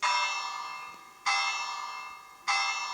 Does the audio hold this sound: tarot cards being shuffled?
no